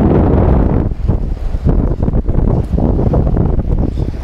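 Wind by the sea in Vladivostok buffeting the microphone, loud gusty rumbling roar that pulses unevenly, close and continuous with no talk.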